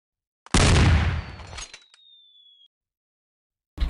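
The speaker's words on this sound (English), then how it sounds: "We got a cannon now that we can shoot from our boat." A boat-mounted cannon fires in Blockland, a sudden loud blast that rumbles and decays over about two seconds with a thin whistling tail, then another burst begins at the very end.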